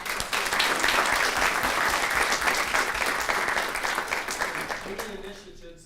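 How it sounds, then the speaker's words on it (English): A student government meeting crowd at Texas Tech gives a loud, sustained round of applause for the Alumni Center, dense clapping that tapers off near the end as a voice briefly speaks. "let's give one more big round of applause to the Alumni"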